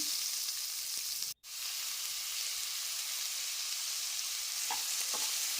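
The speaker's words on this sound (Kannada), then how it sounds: "ಈರುಳ್ಳಿ ಸಾಫ್ಟ್ ಆಗೋ ತನಕ ಎಣ್ಣೆಯಲ್ಲಿ ಹುರಿಬೇಕು" Onions, cumin seeds and green chilies sizzle in hot oil with a loud, continuous hiss that drops out for a brief moment, then carries on steadily, with a few faint clinks near the end.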